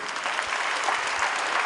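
An audience at a music showcase in Castres applauds in a steady wash of clapping, moderately loud and continuous for the whole moment, with no voices standing out.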